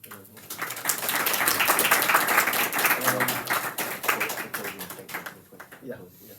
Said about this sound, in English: let us give a big applause